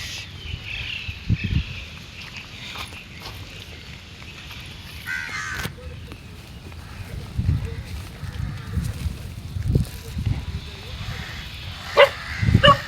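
Street dog puppies yip and bark in short, scattered bursts while being fed outdoors, fairly close. A voice talks over them at intervals.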